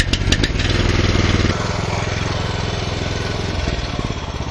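A KM8 two-wheel walking tractor engine runs steadily and loud throughout a test drive, a continuous low mechanical drone with a rough, lawn-mower-like chug.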